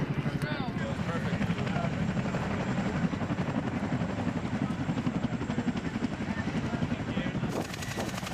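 CH-47 Chinook twin-rotor military helicopter running near a hangar, a loud, rapid, rhythmic rotor chop with engine roar, close and continuous throughout.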